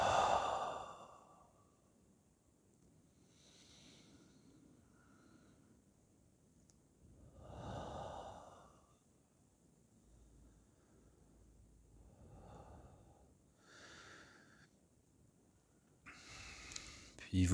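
Slow, soft exhalations during a Hatha yoga session, a few breathy sighs spaced several seconds apart over quiet room tone, with an instructor speaking gently between breaths.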